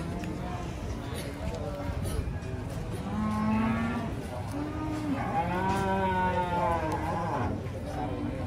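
PO cattle, a large Ongole crossbred cow, moo at a livestock market in several drawn-out lowing calls, loud and near, amid crowd chatter and people talking.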